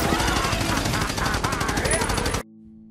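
Gunfire from the 2011 animated western film Rango: a loud, dense burst of rapid shots fired continuously until the gun runs dry, ending abruptly.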